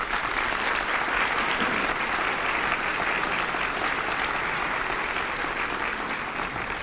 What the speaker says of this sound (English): if you please give Dr. Tony Diaz a round of applause